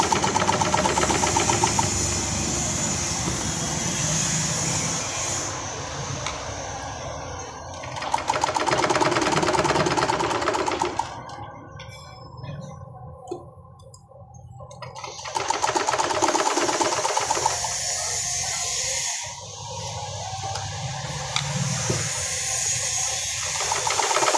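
A sewing machine stitches blouse fabric, running steadily with a fast mechanical whir and clatter. It pauses briefly twice, then resumes, close and loud throughout.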